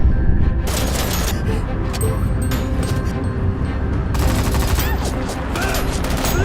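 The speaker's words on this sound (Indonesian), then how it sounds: "Jack dan orang bertopeng mulai menembak, dan tentu saja Junwo membalasnya." Gunfire in an action film scene of a rescue team: rapid bursts of automatic shots and cracking volleys come in loud clusters over a dense rumbling score and effects, with short lulls between the barrages.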